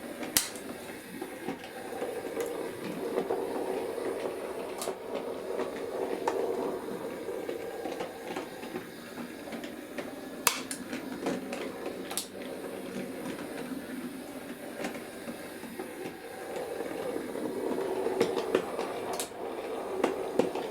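A small Bachmann Class 03 model shunting locomotive runs over insulfrog points on a model railway, giving a steady, quiet whirring motor hum with faint rail clicks throughout.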